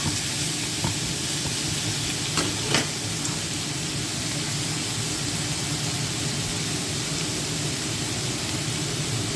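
Ginger and garlic sizzling in hot oil over high heat in a stir-fry pan, a steady loud broadband hiss with a few brief clinks of a utensil near the start, no talking.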